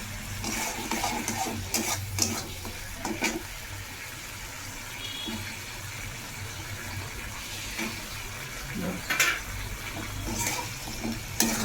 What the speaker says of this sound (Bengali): এবার একটু নেড়ে কচুগুলো দিয়ে দিই